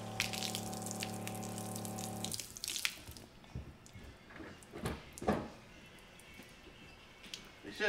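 Liquid gushes and splashes steadily as an RV water pump pushes antifreeze out through a valve during camper winterization. A droning pump tone is heard at first, then irregular splattering and spurts continue at moderate volume.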